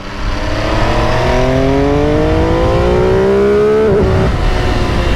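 A 2022 MV Agusta F3 800RR sportbike engine screams loudly through rising revs, with a rapid climb in pitch across gears under hard acceleration, then a sharp shift near the end, heard up close with no voices.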